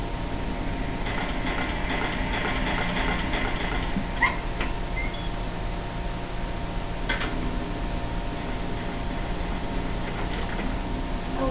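Dog in the video game Silent Hill 4 whimpering and giving short high yips, a few thin whines and brief sharp yelps over a constant low background hum, with no speech.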